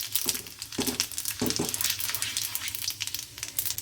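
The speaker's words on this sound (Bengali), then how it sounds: "একটু ভেজে নিলাম লঙ্কাটা এবারে পাঁচ ফোড়ন দিচ্ছি" Panch phoron spice seeds sizzling in hot oil with dried red chillies for Bengali masoor dal, a steady close crackle with a few sharper pops, no voices.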